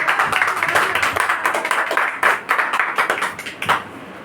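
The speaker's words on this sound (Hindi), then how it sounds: "जोर जोर ताली के साथ हालेलुया।" Congregation at a Hindi-language church service in Mumbai clapping hard and fast, a dense rhythmic patter of many hands filling the room, with scattered voices and shouts mixed in.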